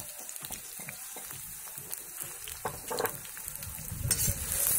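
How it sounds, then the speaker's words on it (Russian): Chopped onion frying in hot oil in a kazan over a campfire outdoors; a soft, steady crackle and sizzle with occasional stirring scrapes, growing louder toward the end. "Обжарим лучок."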